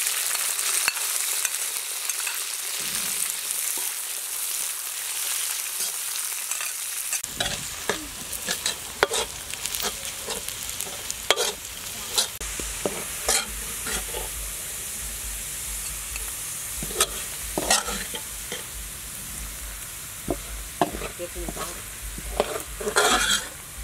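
Dry chili, garlic and shallot fry in hot oil, with a steady broadband sizzle that rises after the first few seconds, overlaid by frequent short stirring scrapes and clicks, close and fairly loud throughout.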